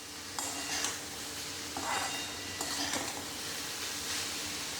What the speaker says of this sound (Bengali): গ্যাসটাকে আমি একদম হাই ফ্লেমে করেই এটাকে আমি ভালো মতন ভেজে নিচ্ছি